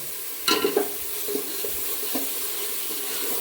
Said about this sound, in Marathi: आणि आपण आता फ्राय करतो आहे बिर्याणीचं